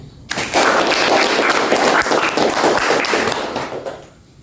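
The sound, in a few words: audience applause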